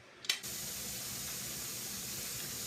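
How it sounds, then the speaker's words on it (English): A short click, then a loud, steady hiss of a pressure canner venting steam while canning chili, continuous and close with no voices. "it's blowing steam out of there pretty good"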